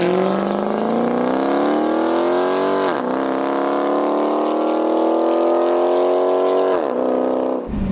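Chrysler 300 SRT8 V8 launching hard with wheel spin, a loud sustained engine roar climbing in pitch through gear shifts with brief dips, recorded close from inside the car.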